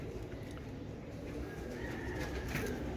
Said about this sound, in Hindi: ये ओरिजिनल कबूतर हैं रॉयल टेडी।